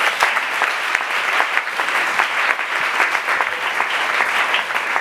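A church congregation breaks into loud, sustained applause, with dense, continuous clapping from many hands filling the room evenly from start to finish.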